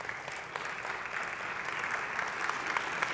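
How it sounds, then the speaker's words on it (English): Applause from the Morehouse community audience at a forum, a faint, steady wash of many hands clapping from a distance that swells slightly toward the end. "I think I hear applause from the Morehouse community."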